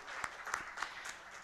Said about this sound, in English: everyone here deserves a big round of applause for all the efforts that they've done